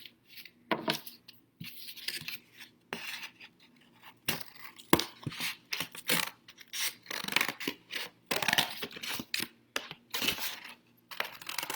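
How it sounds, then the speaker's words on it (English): Close, intermittent snips and scraping rasps as scissors cut through a stiff paper plate, in short bursts with brief pauses between. "you're gonna take the plate and your scissors and you're gonna cut the plate in half"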